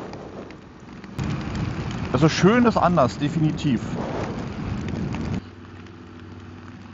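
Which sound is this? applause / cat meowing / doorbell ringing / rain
rain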